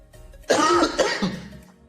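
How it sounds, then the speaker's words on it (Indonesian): A single loud cough, a sharp burst followed by a shorter second hack, close to the listener in a quiet room. "Terus saya jadi batuk nih."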